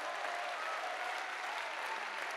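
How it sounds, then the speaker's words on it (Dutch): A Dutch award ceremony audience for excellent primary schools breaks into steady, dense applause, a continuous wash of many hands clapping at moderate distance with no talk over it. "Applaus voor deze excellente basisscholen"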